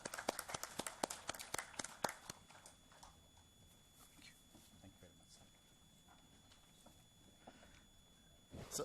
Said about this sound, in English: Round of applause to the Honorable Minister.